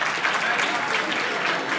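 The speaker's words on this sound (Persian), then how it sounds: "تشویقش کنید لطفا" Dense, steady applause from an audience at a Razer gaming event as a prize is awarded, holding at an even level throughout with voices mixed into the crowd noise.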